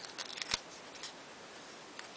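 Pink scissors snip excess off a paper craft strip: a few quick, crisp cuts close by, one sharper snip standing out, then a faint snip near the end over quiet room tone.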